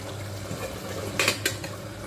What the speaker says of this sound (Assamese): এইখিনি মই এতিয়া এবাৰমান লৰাই দিছোঁ